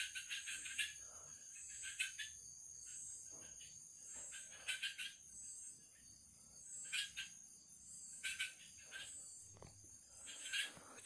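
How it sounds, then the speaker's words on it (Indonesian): Crickets chirp in steady pulsing bursts on a quiet night, a continuous high trill with a few faint rustles underneath. "banyak suara jangkrik"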